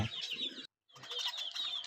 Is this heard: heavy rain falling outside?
no